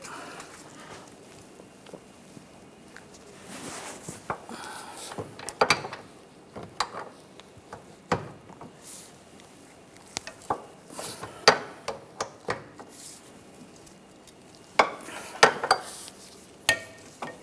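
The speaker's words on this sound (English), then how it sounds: "Using an 18mm wrench on the nut and an 18mm socket, loosen this up." An 18mm wrench and socket loosen a nut during front lower ball joint work on a 2009-2013 BMW 328i xDrive, producing scattered metallic clicks, clanks and ratcheting taps of varying loudness close by, with no talking.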